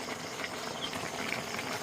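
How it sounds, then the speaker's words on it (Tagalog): A pot of spicy goat adobo in coconut milk boils and simmers, nearly reduced, with steady bubbling and hissing at low volume and no voices. "kumukulo na malapit na matuyo"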